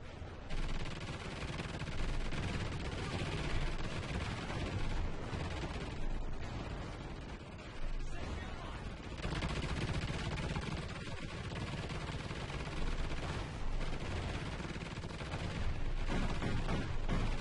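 Dense, continuous gunfire in a video game as players shoot at a target, with overlapping rapid shots and blasts forming a loud, steady barrage that runs throughout.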